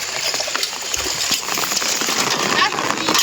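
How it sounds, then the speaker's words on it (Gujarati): Rain falls on an open umbrella overhead, a close, continuous patter of drops, with a person talking over it. "છત્રી લીધી ને છત્રીમાં વધારે સંભળાય વરસાદ"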